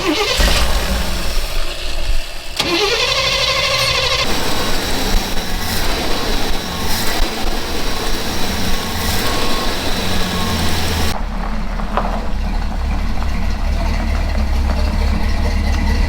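A car engine that was not getting fuel, with fuel fed in through the overflows, cranks on a new battery, catches and keeps running loud and close, with a rough, steady mechanical roar.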